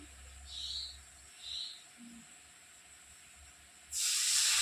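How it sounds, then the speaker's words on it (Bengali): Water poured in small amounts onto semolina roasting on low heat for suji halwa hisses and steams in soft bursts, ending in a loud, sustained sizzle. "এবার জল দেবো অল্প অল্প করে"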